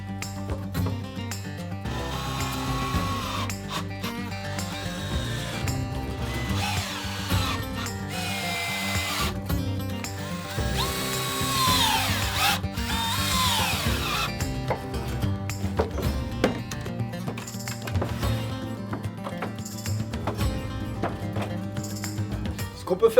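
Power drill driving fasteners to fix legs at the four corners of a pallet-wood bench, workshop noise with whirring bursts and rubbing, steady and fairly loud throughout with no talk.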